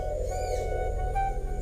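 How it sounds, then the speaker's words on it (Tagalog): Birds calling deep in a quiet forest near Sicalao Falls in Lasam, owl-like hoots and faint whistles drifting over a steady low background hum, soft and distant throughout. "Napakatahimik ng kagubatan, maliban sa mga huni ng mga ibon."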